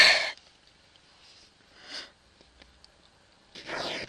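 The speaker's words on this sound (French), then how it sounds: "Je vais éternuer." A sharp, breathy sneeze burst up close, followed by a brief sniff and then another forceful sneeze-like blast near the end.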